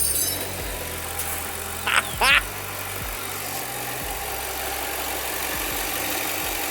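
A Ford V8 engine, 7.5 L or 4.6 L, runs at a steady idle with a low, even drone throughout, while a brief chirp and some talking come through over it.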